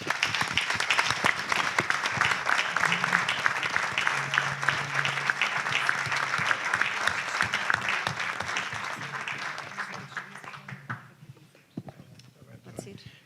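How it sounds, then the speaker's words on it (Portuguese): An audience at a Portuguese ceremony gives a warm round of applause for a man named Américo, dense clapping that gradually thins out and fades near the end, with a voice faintly under it. "Um grande abraço e uma salva de palmas para o nosso Américo"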